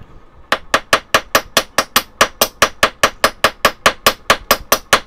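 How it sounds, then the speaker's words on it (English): Steady, evenly spaced hammer blows on a metal pendant resting on a flat anvil, roughly four sharp ringing strikes per second, close and loud, with no talking. "So go ahead and use just your flat anvil."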